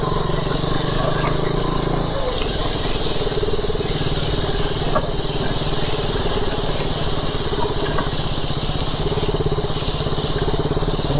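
A motorbike on a landslide-damaged mountain road to Kedarnath, with gear-shifting trouble, runs with a steady, loud, rough engine drone close by, its tone shifting slightly early on and then holding constant.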